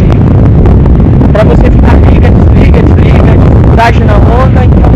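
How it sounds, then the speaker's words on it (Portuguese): Loud, constant wind buffeting a microphone outdoors, with roaring gusts and a voice faintly audible beneath the rumble. "Ele tá ventando, tá ventando bastante"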